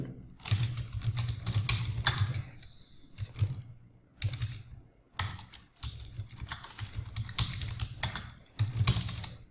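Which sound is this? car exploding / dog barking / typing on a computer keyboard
typing on a computer keyboard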